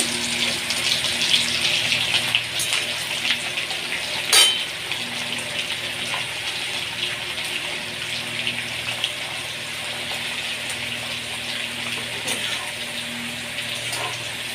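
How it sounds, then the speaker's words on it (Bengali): Lentil snack (dal moth) frying in hot oil, a loud continuous bubbling sizzle with occasional sharp crackles and a brief clatter, close and steady with no talk. "ভালো করে লাল করে ভেজে নেব।"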